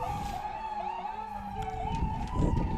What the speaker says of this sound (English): Apparently it'll also bring an ambulance,